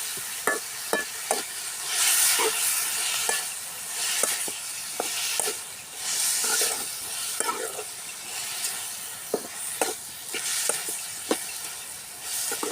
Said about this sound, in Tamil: அப்புறம் தக்காளியும் போடுவோம் ஒன்றா வதங்கிட்டு போகிறோம்